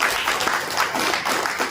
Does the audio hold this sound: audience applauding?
yes